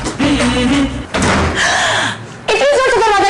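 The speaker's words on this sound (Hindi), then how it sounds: "इतनी जोर से दरवाजा क्यों बंद किया?" A house door slams shut with a sharp bang in the middle of a heated family argument, followed by tonal voices and noise, loud and close.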